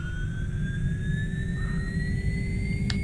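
Aircraft engine spooling up at start-up in the X-Plane flight simulator, a loud steady low rumble with a slowly rising whine on top and a brief click near the end, no talking.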